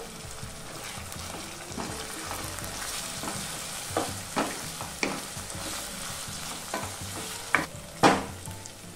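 Potato pieces and green peas with turmeric stir-fry in a pan of mutton keema, with steady sizzling throughout and several sharp scraping clatters of the spatula toward the end.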